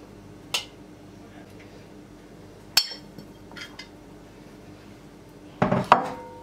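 Sauce spooned over a whole chicken in a pan for oven roasting, with a few sharp metallic clinks of a spoon against the pan spread out over quiet moments, and a louder cluster of clatter near the end.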